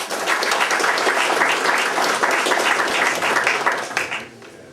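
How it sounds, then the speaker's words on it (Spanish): Sustained, dense applause from an audience at a book presentation on Socrates, loud and steady for about four seconds before tapering off at the end. "Un aplauso por ello."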